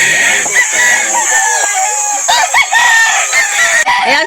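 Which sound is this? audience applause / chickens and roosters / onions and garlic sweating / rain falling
chickens and roosters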